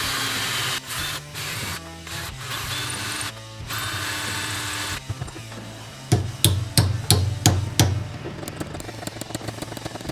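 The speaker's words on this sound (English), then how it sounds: "I was pounding on the end, it didn't deform at all." A hammer pounds a wooden handle onto a metal screwdriver blank made from a bed frame, about seven sharp, close, evenly spaced strikes. They follow a stretch of louder continuous noise.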